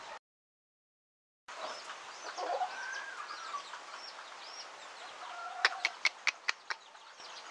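Gamefowl hens at a farm clucking close by, soft rising calls over a steady background hiss, ending in a run of sharp rhythmic pecking or tapping knocks after a brief silent gap at the start.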